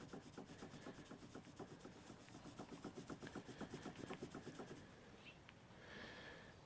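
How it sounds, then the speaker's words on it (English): Towel rubbed briskly over a metal gun surface coated with Rem gun oil, a close, steady rhythmic rasping of quick even strokes for about five seconds before stopping. "Rub it in real good."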